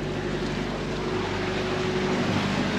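A boat engine runs steadily at reduced throttle under way at sea, a loud continuous drone with low harmonic hum, mixed with wind and water rush and no pauses.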